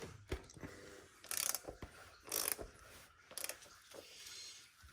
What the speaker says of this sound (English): You attach a wrench to it, and we can loosen this right up.